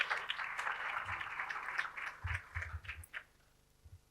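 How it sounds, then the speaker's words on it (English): Audience clapping for speakers at a university teaching and learning festival, a moderate burst of applause that thins into scattered claps and fades out toward the end, with a few faint voices underneath. "can we just give the round of applause for our speakers"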